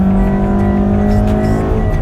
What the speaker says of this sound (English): that was a 0 to 60 in a very tight corner